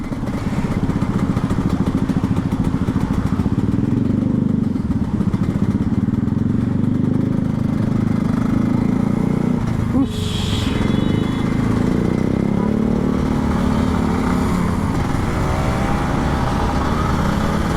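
A Kawasaki Ninja RR 150 motorcycle engine drones steadily up close for a long stretch, mixed with broad rushing noise of heavy rain and wind, with a brief clatter midway.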